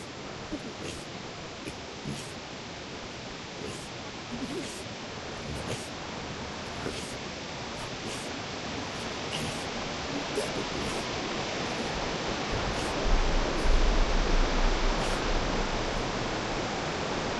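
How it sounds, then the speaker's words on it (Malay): A river near Kalumpang Resort rushes in a broad, steady wash of flowing water that stays loud and continuous throughout, with faint ticking sounds scattered over it and a low rumble late on. "Inilah sungainya."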